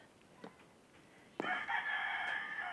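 A Minecraft chicken gives a short, clucking burst of sound late in the clip, following a few faint clicks over a quiet background.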